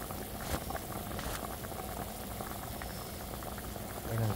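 Water with pork ribs for adobo boils steadily in a pot, a continuous close bubbling and seething with no one speaking.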